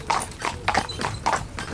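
A Friesian stallion's hooves clip-clop in a steady walking rhythm, several close, distinct hoofbeats on a hard surface, with no talking.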